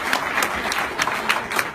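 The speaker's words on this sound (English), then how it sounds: "Another round of applause for those guys." Audience applause for an agency at a cryptocurrency blockchain launch event, a steady dense wash of clapping from a crowd, fairly close and sustained for the whole stretch with sharper individual claps popping out.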